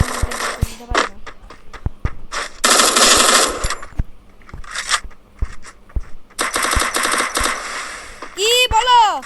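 SMG fire in a shooting video game, loud sustained automatic bursts broken by single shots and clicks, with a voice talking over parts of the action.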